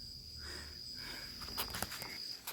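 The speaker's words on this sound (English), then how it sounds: "oh, that's a cicada." Insect buzzing, named as a cicada, holds steady and high-pitched beside faint outdoor rustling and a few soft taps.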